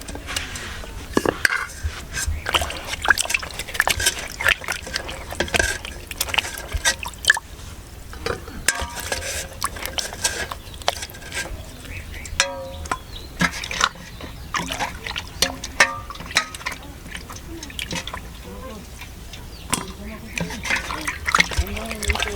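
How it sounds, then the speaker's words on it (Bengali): Mangoes are washed by hand in a bowl of clean water, with constant close splashing, sloshing and dripping while a voice talks over it. "একটু পরিষ্কার জল দিয়ে এখন আমগুলো সুন্দর করে ধুয়ে নেব।"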